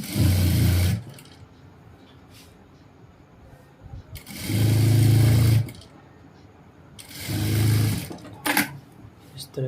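A sewing machine stitches trouser fabric in three loud motorised runs of about a second each, separated by quiet pauses with small handling noises.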